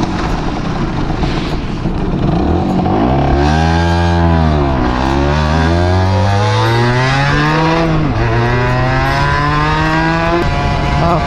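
Honda NS-1 two-stroke motorcycle ridden along a rural farm road, its engine loud and close throughout with a buzzing, revving note that rises and falls through gear changes, alone without talk.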